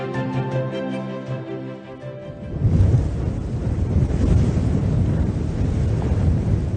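Steady wind blowing across an open desert region, a loud continuous rushing roar that rises after a short opening of tonal music and then holds evenly to the end.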